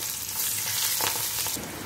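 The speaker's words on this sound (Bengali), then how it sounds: "আমার পেঁয়াজটাও ভাজা হয়ে গেছে।" Chopped onions frying in oil with green chilli and nigella seeds, a steady close sizzle with brief stirring bursts and no talk.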